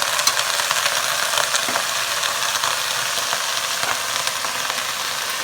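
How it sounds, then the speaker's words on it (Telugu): A steady, crackling sizzle of ridge gourd, cabbage and cauliflower stir-frying in a pan, with faint scraping of stirring running continuously and close, no voice. "వేయించాలంటే బాగా కలపాలండి."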